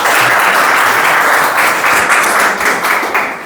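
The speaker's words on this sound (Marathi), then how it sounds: "तिच्यासाठी एकदा जोरदार टाळ्या" An audience at an open mic poetry event breaks into loud, sustained applause, dense clapping that holds steady for several seconds before starting to fade.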